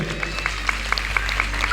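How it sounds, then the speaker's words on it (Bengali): Audience clapping in honor of Vishal's mother at a medal ceremony, a brief, moderate ripple of applause from a crowd. "আমি চাইব বিশালের মার জন্য একবার সবাই মিলে হাততালি দেবেন"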